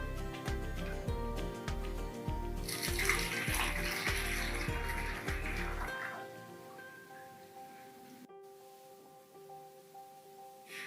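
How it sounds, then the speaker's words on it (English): Water poured from a container into a bottle, a gurgling splashing pour that runs steadily for about six seconds and then stops, leaving quiet room tone with faint lingering drips. "put the 150 milliliters of water in the bottle"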